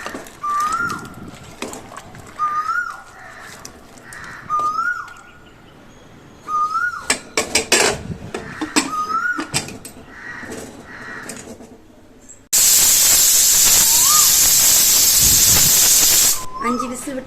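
A pressure cooker cooking mutton head curry vents a loud, steady steam whistle for several seconds near the end, after a stretch of repeated crow caws and scattered kitchen clatter.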